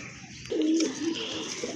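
A pair of Panja pigeons coos nearby, one soft, rolling, low coo rising out of a steady background hum, short and close.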